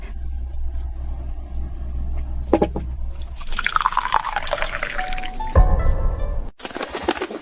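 Water poured into a container, a bright splashing stream that swells then cuts off, preceded by a few drips and followed by a shorter trickle, against low background rumble.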